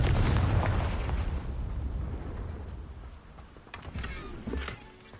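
A Confringo blasting spell going off in the game Hogwarts Legacy: a heavy, booming explosion with a rumbling low tail that slowly decays, followed by a few smaller crackling pops.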